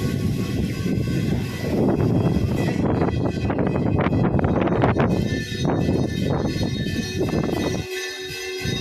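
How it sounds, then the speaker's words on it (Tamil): Strong wind buffets and rushes across the microphone at a hilltop Shiva temple in the Kolli Hills, loud and continuous, with gusty roaring throughout and a brief lull near the end. "ஃப்ரெண்ட்ஸ் காற்று பயங்கரமாக அடிக்குது இந்த சிவன் கோயிலில்"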